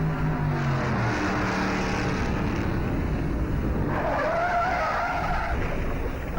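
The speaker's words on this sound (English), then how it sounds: "A car out of control, and Roberts smashes into him." A race car skids out of control at the 1957 Darlington Southern 500, tires screeching in a rising squeal over a loud, constant roar of engines, with no voices.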